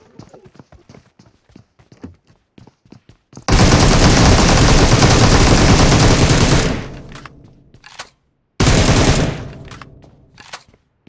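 Gunfire in PUBG Mobile: a loud, close, sustained automatic burst lasting about three seconds, then a brief pause and another short burst, set against quieter scattered shots and game noise. No talk over it.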